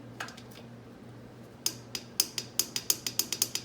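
Torque wrench tightening cylinder head bolts on a Honda ATC 200x engine, several sharp metallic ratchet clicks in a quickening series after a quiet start, close and alone.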